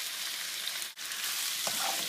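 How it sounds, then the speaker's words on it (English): Shrimp sizzle in hot olive oil in a pan, a loud, steady frying hiss that drops out for a split second midway before resuming at full strength. "I'm adding my shrimp. You hear that sizzle?"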